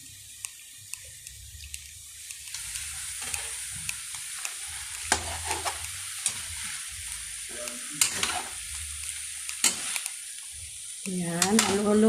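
Vegetables sizzle steadily in a frying pan while a utensil stirs them, producing repeated sharp scraping clacks against the pan. A voice is briefly heard near the end.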